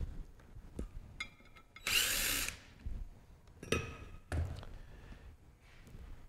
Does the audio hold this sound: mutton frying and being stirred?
no